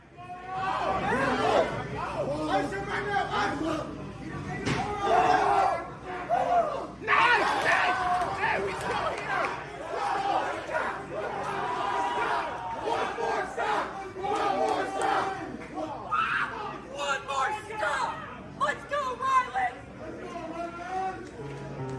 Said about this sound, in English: the crowd during the matches was insane as well